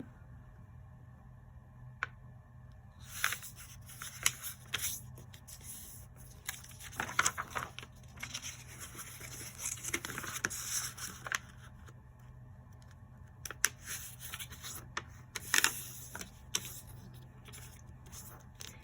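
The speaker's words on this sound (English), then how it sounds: "we're going to fold the paper along the diagonals" Square origami paper being folded along its diagonals: soft, close crinkles, rustles and creases come in irregular bursts over a quiet background, with a few sharper crisp snaps of the paper.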